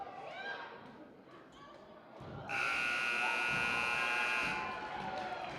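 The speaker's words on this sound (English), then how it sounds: "And the buzzer sounds." A loud electronic game-ending buzzer blares for about two seconds at a girls' basketball game, over faint crowd noise and commentary, then cuts off.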